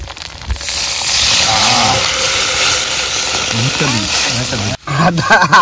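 Coconut milk poured into a sizzling pan of ginger paste for prawn malai curry makes a loud, broad frying hiss that runs throughout, with voices talking over it.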